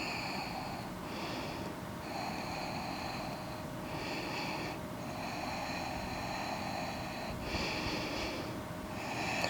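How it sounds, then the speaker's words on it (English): A yoga practitioner breathes slowly while holding a revolved pyramid pose: soft, faint, rhythmic inhales and exhales with a slightly nasal, snorting edge, repeating every couple of seconds in a quiet room. "Breathe."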